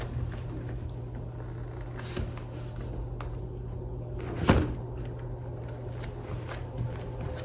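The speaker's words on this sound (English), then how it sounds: "I'm going to pull up on the door and ever so carefully rest it on this portion of the" A sliding glass door lifted and set down on its frame gives a single close, soft knock or thump midway through, with faint handling noise and a low steady hum before and after it.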